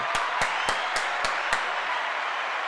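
Crowd applause holds steady throughout, with several sharp, evenly spaced claps standing out near the front during the first half, set within a Spanish-language trading livestream.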